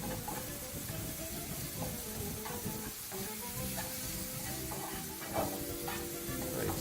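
Freshly cut mushrooms fry in a hot pan, giving a soft, steady sizzle with occasional light stirring scrapes, fairly quiet and without talk.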